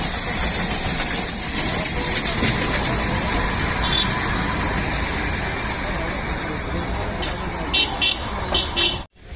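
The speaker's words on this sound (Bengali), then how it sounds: "টয় ট্রেন আসছে।" A Darjeeling toy train approaches at Batasia Loop with a broad, continuous steam-like hiss and rumble filling the air, ending with a few sharp knocks before it cuts off abruptly.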